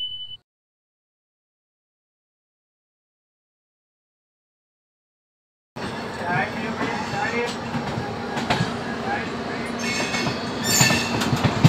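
The Kaifiyat Express passenger train, pulled by a WAP-7 electric locomotive, approaches near Ghaziabad after several seconds of silence, bringing a steady rumble with rattling wagons and clacking wheels that grows louder toward the end.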